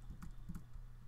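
Computer keyboard typing on a Mac, a few quick soft keystroke clicks in a short burst, faint and close.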